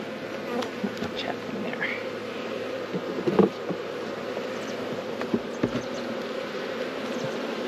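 A steady, dense hum of many bees buzzing close by, with brief louder passes and light knocks now and then.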